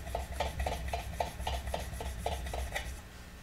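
A mortise chisel lapped flat on an abrasive surface: a quick, steady rhythm of close scraping strokes, about eight back-and-forth rubs over three seconds, then stopping.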